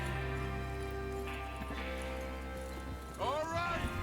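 Horses in the Western video game Red Dead Redemption 2 clop along at a low level beneath a voice, with a brief whinny-like call near the end.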